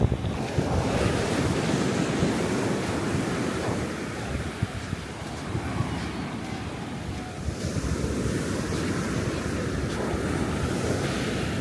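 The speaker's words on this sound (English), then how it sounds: "Kamala Beach." Surf washes in steadily at Kamala Beach in Phuket, a continuous rolling roar of breaking waves mixed with gusty wind buffeting the microphone, loud and close, with no voices.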